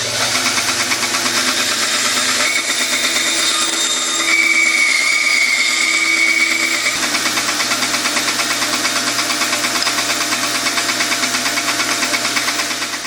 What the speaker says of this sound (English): So let's cut it in half to see what we've accomplished.